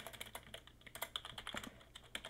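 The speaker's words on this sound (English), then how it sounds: "You can hear my lovely typing in the background." Rapid typing on a computer keyboard, a steady run of crisp clicking keystrokes at close range with no other sounds.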